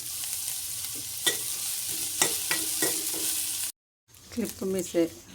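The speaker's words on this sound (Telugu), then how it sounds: "ఉల్లిపాయ, కరివేపాకు కొంచెం బాగా వేగాలి" Onion and curry leaves frying in a pan, a steady sizzle broken by a few scraping stirs, with a short gap of silence before sharper, closer sizzling bursts return.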